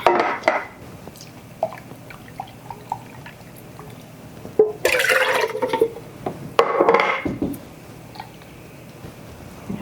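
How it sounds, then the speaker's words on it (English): Water runs and splashes into empty tomato cans as they are rinsed out in a kitchen, two bursts of spray and sloshing over a quiet background, with no talking. "I'm going to go through here and I'm going to rinse all my cans before I throw them out"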